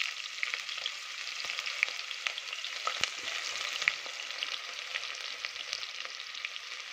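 Cumin, curry leaves and onion fry in hot oil in a cooker, a dense crackling sizzle with scattered pops and spits that keeps up steadily throughout.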